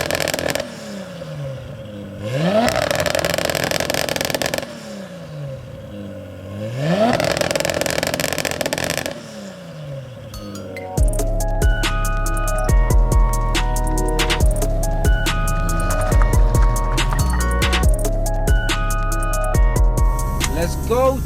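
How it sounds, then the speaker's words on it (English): A 700bhp Nissan R33 Skyline with a screamer pipe revs hard three times, each sweep rising and falling loudly up close. Loud music takes over for the second half. "It's got a screamer pipe as well, so when it's in boost, all you can hear is a screamer pipe."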